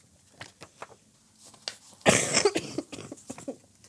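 A sick person coughs in a short, loud burst midway, with a few quieter throat sounds and small noises scattered around it.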